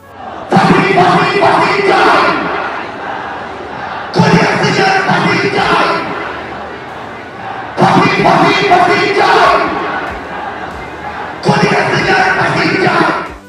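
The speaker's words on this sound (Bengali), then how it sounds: "এ সময় তিনি শেখ হাসিনার ফাঁসি চেয়ে স্লোগান দেন। তার সঙ্গে গলা মেলান কনসার্টে উপস্থিত হাজারো মানুষ।" Thousands of people at a concert chant political slogans in unison, with loud, roaring waves of massed voices repeating every few seconds and short quieter pauses between calls.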